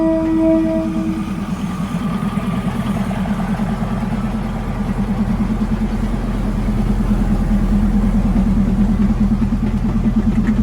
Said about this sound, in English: Railway train of Bangkok.